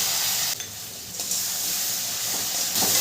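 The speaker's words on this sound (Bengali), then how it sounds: "মশলাটাকে ভালো করে আমি কষিয়ে নেব।" Masala paste with cumin and green chili paste being stirred and fried in a pan for a Bengali khoira fish curry, giving a steady close sizzle and hiss with soft scraping of the spoon throughout.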